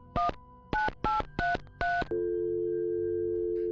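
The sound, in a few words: dialing a phone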